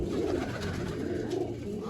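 Pigeon cooing in a coop, a low continuous murmur of soft coos held at a steady level throughout, fairly close, with no voices.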